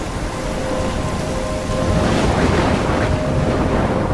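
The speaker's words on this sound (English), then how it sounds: "In a storm?" Rain pours steadily through a game thunderstorm in Life is Strange, with a low rumble of thunder swelling midway; a continuous, loud wash of rainfall with no voices.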